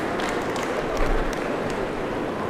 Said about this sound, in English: There's a nice round of applause